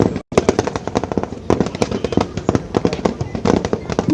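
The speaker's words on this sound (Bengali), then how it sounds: "বেয়নেট চার্জ করার আগে ট্রেঞ্চ ক্লিয়ার করতে সৈন্যরা গ্রেনেড নিক্ষেপ করছে।" Grenades explode in a Bangladesh Army trench-clearing exercise, a dense, rapid barrage of sharp blasts and cracks following one another almost without pause, loud and close.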